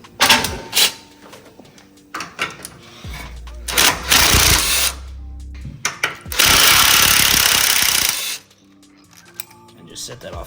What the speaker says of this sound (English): Now you can speed this process up with the drill.